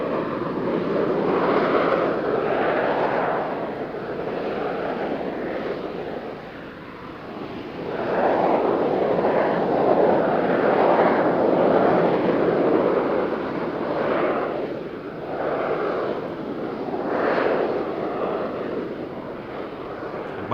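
Harrier jet roaring continuously at an RAF Fairford air tattoo, a loud broadband engine rush that swells and dips as the jet climbs away, with wind buffeting on the microphone.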